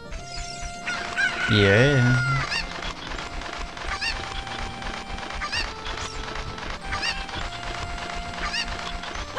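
Cuckoo chickens in the video game Ocarina of Time, in Kakariko Village, let out a loud squawking crow, then keep up a scattered run of clucks and chirps; a voice briefly speaks.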